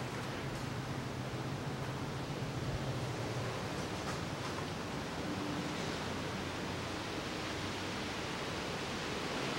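Engine oil pours into the 2.4-litre engine of a 2007 Citroen C-Crosser, a steady, even rushing stream that runs unbroken and fairly loud throughout.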